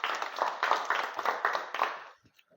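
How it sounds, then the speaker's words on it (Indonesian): Clapping from an audience in a church or classroom setting, a brisk round of hand claps lasting about two seconds before trailing off into a few scattered claps and quiet. "Kita beri tepuk tangan untuk Bilem."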